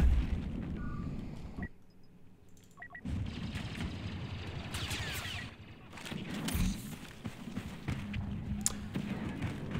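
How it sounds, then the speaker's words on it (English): A grenade going off in Battlefield 2, a muffled blast with rumbling debris amid ongoing battle noise, scattered gunfire and faint voices. "Grenade out."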